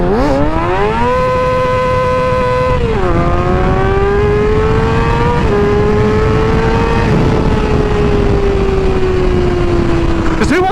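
A motorcycle engine running close and loud during a test ride, its pitch climbing through revs and gear changes then holding a steady drone, with strong wind rush throughout.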